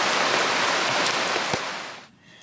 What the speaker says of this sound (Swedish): då kom lite regn också så vi fick ta pausen sen här